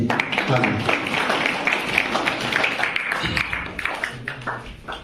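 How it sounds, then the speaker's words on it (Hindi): Students at a farewell program in a Rajasthan government senior secondary school give a burst of applause, scattered claps mixed with voices and talk in a busy room. "हाँ, मोनिका, जोरदार ताली।"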